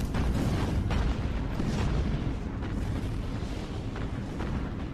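In the Battlestations Pacific naval battle, warship guns fire at an enemy destroyer, making a dense, continuous rumble of booming blasts with several sharper hits, louder in the first half and then slightly subdued.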